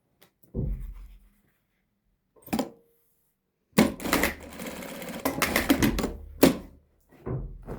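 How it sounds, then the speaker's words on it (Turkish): A sewing machine stitches Adana shalvar trousers in short bursts, a close rattling whir that stops and restarts several times between stretches of silence. "Diğer tarafı da sabitleyip dikiyorum hemen."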